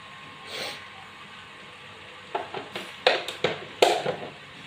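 A spoon stirs chili flakes and oregano into a Chinese dish, making faint scattered taps and clinks over a soft steady hiss; the clicks cluster more densely toward the end.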